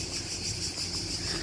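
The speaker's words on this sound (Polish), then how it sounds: "Cykady oszalały" Steady, dense high-pitched buzzing of cicadas on Ugljan island, Croatia, fills the background continuously, with faint low rumble beneath and no voices.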